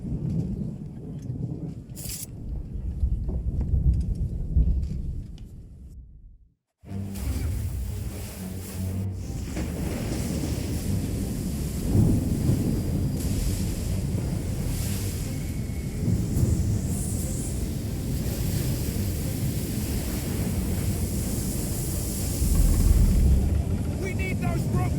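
A storm at sea in Assassin's Creed 3, with roaring wind and crashing waves around a sailing ship. The churning noise is loud and steady, broken by a brief near-silence, and voices talk over it.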